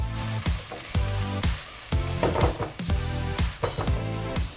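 Mixed mushrooms stir-fried in olive oil in a hot pan, before onion, garlic and chickpeas go in for a chickpea spinach curry: a close sizzle broken by repeated spatula scrapes and pushes, over a steady tonal background.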